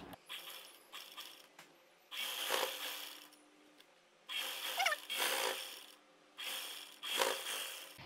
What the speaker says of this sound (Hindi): अब हम इसमें एक सिलाई और लगा देंगे